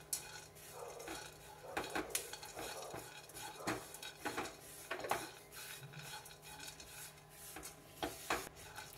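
Sliced cashews, almonds and pistachios roasting in a pan over a low flame, stirred with a utensil, producing repeated scraping and clinking strokes against the metal at close range and moderate volume.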